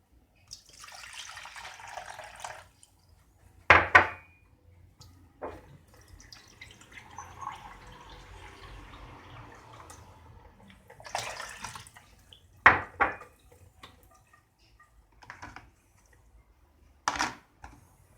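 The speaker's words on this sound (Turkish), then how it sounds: "Kahveyi yapmadan önce cihazın haznesine suyu koyuyoruz." Water poured into the reservoir of a Kenwood CM200 filter coffee maker, a soft trickling splash running for several seconds, with a few louder knocks and clatters of handling around it, no voices.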